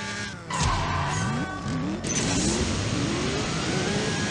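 A W Motors Fenyr Supersport accelerates hard in the CSR2 racing game, its engine note climbing through rapid gear shifts with rising whines, loud and close, with a brief tire screech at the launch.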